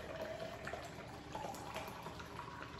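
Freshly blended juice poured from a blender into a container, a steady, soft, continuous liquid stream heard close and alone for a few seconds.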